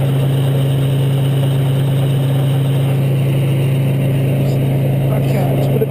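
A military APC's engine idles steadily with a low, constant hum and drone while the vehicle sits stuck in mud, continuous and unchanging at moderate volume.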